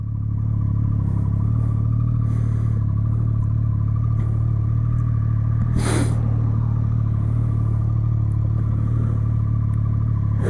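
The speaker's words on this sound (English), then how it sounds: "Let's wait for this car to go." A car swishes past at about the midpoint over a constant low motorcycle engine idle at night, moderately close, with faint clatter around it.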